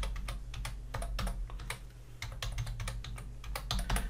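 Fingers type a new password on a computer keyboard in quick, uneven bursts of crisp, close key clicks, with short pauses between runs and no talking.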